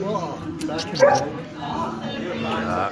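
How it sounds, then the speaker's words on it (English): A dog barks and yips at close range indoors at the Clachaig Inn pub in Glencoe, in the Scottish Highlands, with short excited bursts mixed among people talking. "we're going to get dogs in here as well"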